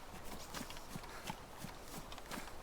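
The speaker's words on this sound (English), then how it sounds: "thought I heard some footsteps there." Footsteps in the survival game DayZ, a steady run of soft thudding steps about every third of a second, faint and distant under background noise, with no talk.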